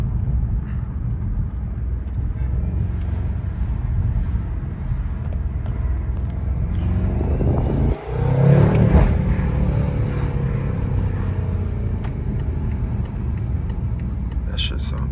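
BMW M550i engine revving and pulling hard under acceleration, a steady loud drone with a surge and swell midway, heard from inside the car alongside occasional voices.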